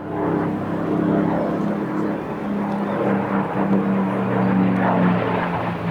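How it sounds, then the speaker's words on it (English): A Spitfire LF Mark 16E, built at Castle Bromwich in 1945, flies at Sola Airshow in Norway. Its propeller-engine drone is steady and loud, with a low hum and broad roar that swell slightly across the pass. "Biltema's Spitfire is the LF Mark 16E version"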